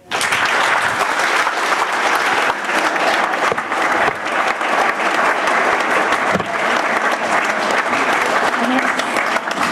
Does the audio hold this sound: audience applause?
yes